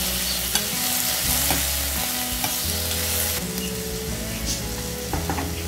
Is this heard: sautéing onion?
yes